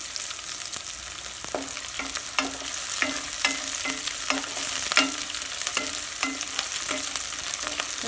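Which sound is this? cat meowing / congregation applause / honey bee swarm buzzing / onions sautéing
onions sautéing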